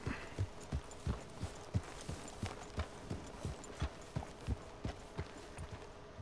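Horse hooves clip-clop in Red Dead Redemption 2 in a steady, even rhythm, about two beats per second, fairly quiet and unaccompanied by talk.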